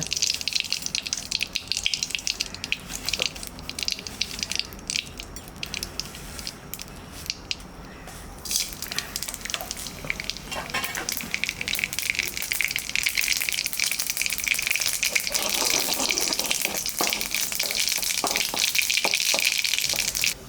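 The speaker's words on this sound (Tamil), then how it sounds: "கடுகு இப்போ நல்லா பொரிஞ்சிருச்சு." Mustard seeds splutter and crackle in hot ghee in a cooking pan, a busy sizzling hiss with scattered sharp pops that grows denser and louder toward the end, heard close up without talk.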